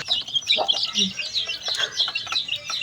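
A small chicken clucks repeatedly in a steady, chattering stream, close by and fairly loud, with no talk over it.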